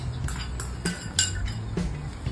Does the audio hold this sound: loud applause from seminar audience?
no